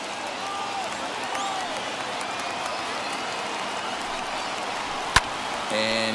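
Stadium crowd of more than 37,000 rising to its feet and cheering at a Dodgers at Nationals baseball game in MLB The Show 21, a steady broad roar under commentary with a brief sharp knock near the end.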